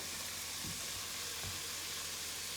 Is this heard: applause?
no